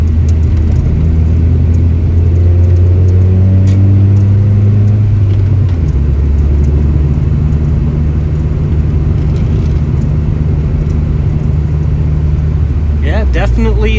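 A car on newly fitted OE replacement strut assemblies driving through a curve, its steady engine drone and road rumble shifting in pitch midway, heard from inside the cabin, with brief speech near the end.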